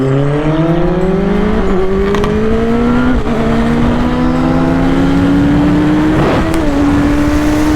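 A 2022 Kawasaki ZX-10R sport motorcycle accelerates hard while racing, its loud engine whine climbing in pitch through several quick gear shifts, with brief dips between each rising pull.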